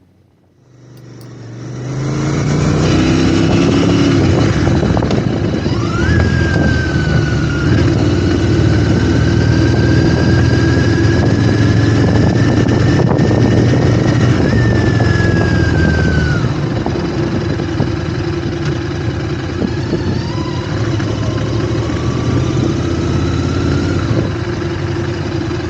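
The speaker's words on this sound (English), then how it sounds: "you can listen to the engine" A Triumph Interceptor 650 motorcycle being run in, ridden through town near Bredon Hill, its engine droning steadily and loudly for the whole stretch with rising and falling revs, no voices.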